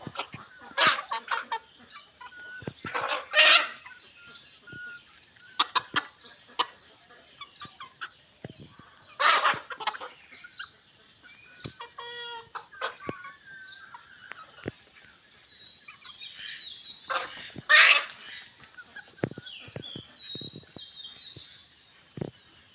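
Chickens cluck and cackle around a farmyard, some calls close and loud, others softer, with scattered bursts over a quiet steady background.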